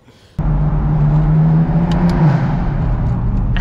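A BMW M4 in poor, failing condition drives with a sudden engine onset into a loud, steady, close rumble that holds for several seconds without talk.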